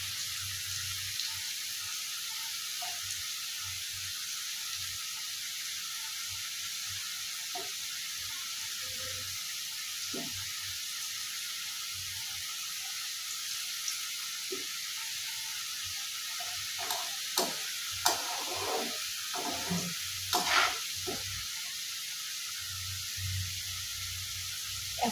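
Potatoes fry in a pan for masala dhoka with a steady, soft sizzling hiss throughout, dotted with occasional light clinks and stirring sounds.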